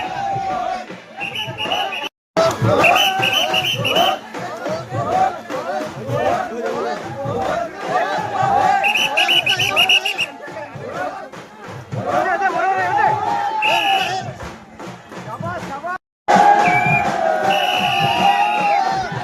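A dense crowd throngs a Konkan village Holi and palkhi procession during Shimga, with lively chatter, shouts and occasional cheers all around, and a nearby voice speaking over the din.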